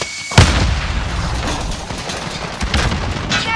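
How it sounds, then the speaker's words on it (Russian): A thrown grenade in Call of Duty: Warzone detonates with a sharp, loud blast near the start, followed by rumbling battlefield noise and distant pops. "Бросаю гранату."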